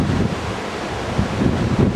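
Sea waves rolling in at low tide near a cave at Pedra Furada, Jericoacoara, a close, windy wash of surf with surging swells and wind buffeting the microphone.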